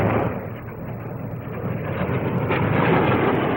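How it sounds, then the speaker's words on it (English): A Blackburn NA-39 Navy low-level strike jet flies at the 1959 Farnborough airshow, producing a steady, loud roaring rumble that builds slightly as it passes. "This is the Navy's low-level strike aircraft."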